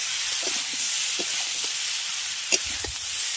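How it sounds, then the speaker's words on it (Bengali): Mixed winter vegetables sauté with ginger paste in a wok, giving a soft, steady sizzling hiss broken by a few light clinks and scrapes of stirring, with no voices. "খুব ভালো করে সবজিগুলোকে আদা বাটার সঙ্গে কষাতে হবে"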